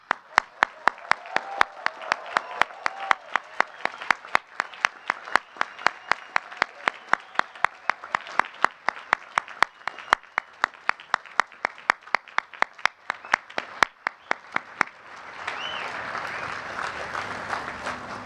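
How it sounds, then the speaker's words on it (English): Applause rises from a commencement audience honouring graduates' families and friends, starting with a few loud, evenly spaced claps and swelling into a steady wash of crowd clapping near the end. "Please join me in giving them a big hand of applause."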